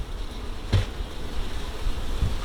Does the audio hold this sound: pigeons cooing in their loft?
no